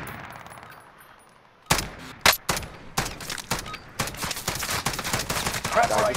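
Gunfire in Call of Duty: Warzone: quiet at first, then a burst of sharp shots and rapid automatic fire, loud and irregular, with later shots fainter and farther off.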